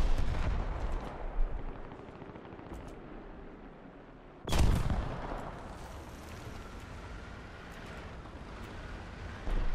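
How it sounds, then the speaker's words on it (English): A heavy artillery round slams into a BT-7M tank in War Thunder, a loud booming blast about midway through, with rumbling battle noise and engine drone before and after. "That was a direct hit from the artillery."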